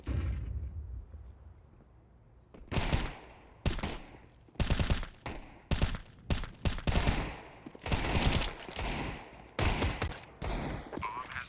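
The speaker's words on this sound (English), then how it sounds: "nice shot by Automatic, and then the follow-up as well in the softer target" Rapid bursts of gunfire in a competitive tactical shooter esports match, loud clustered shots and automatic volleys breaking out after a quieter stretch, with a commentator's voice faintly underneath.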